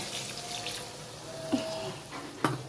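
A cornflour and soy sauce mixture is poured into a wok for gravy chilli chicken, a soft running liquid sound with two small clinks, fairly quiet.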